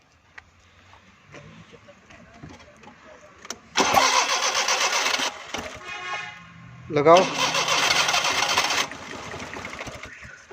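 A car engine cranks repeatedly without catching after a pressure wash, in two loud sustained bursts of starter churning separated by a short pause, with someone speaking briefly before it begins.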